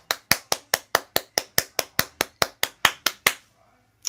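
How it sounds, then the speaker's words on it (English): Hand clapping in a slow, even rhythm of about fifteen sharp, close claps spaced evenly, ending abruptly into near silence. "a round of applause."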